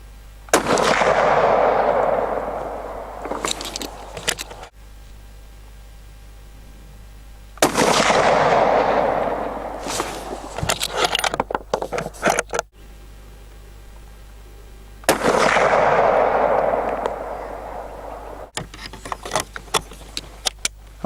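An Anschutz 1780 rifle in .308 firing three shots loaded with Nosler ballistic tips: three loud, booming reports spaced several seconds apart, each followed by a rolling echo and the clatter of the bolt being worked.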